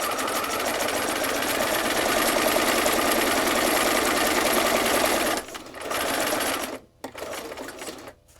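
A sewing machine with a knee-operated presser foot lift runs loud and continuous for several seconds, then stutters to brief stops and restarts as the foot is raised and lowered.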